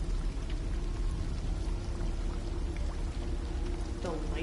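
Flowing water in the game Detroit: Become Human pours and splashes steadily, a dense, continuous wash of sound with no voices over it.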